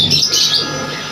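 Pet birds in a cage, sold as breeding pairs, chirping and squawking in a close, steady chatter of bright calls throughout.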